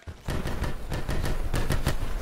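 A nine-bang flashbang grenade going off in a video game, a rapid string of sharp, loud cracking pops in quick succession, close and punchy, without speech.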